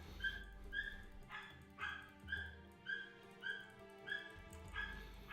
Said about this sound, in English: That's the dog's going crazy.